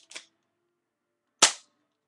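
A Colt MK IV airsoft pistol rated at 200 FPS fires outdoors, giving a faint short snap followed about a second later by a louder, sharp crack that decays quickly into silence.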